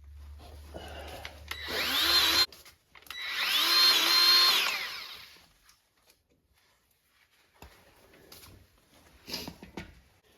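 A grease gun pumps grease into a grease point on the front axle of a John Deere 3038e compact tractor. Two close, loud, whining motorized bursts are separated by a short gap, then quiet with faint clicks and handling noises.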